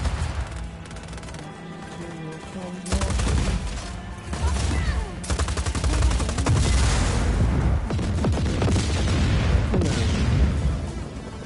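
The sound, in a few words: gunfire in the video game Just Cause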